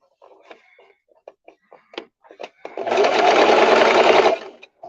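A sewing machine stitches along the folded edge of fabric for a simple skirt, running in one loud continuous burst after a series of short clicks and taps.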